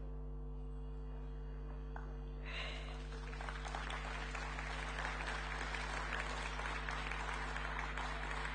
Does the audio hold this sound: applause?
yes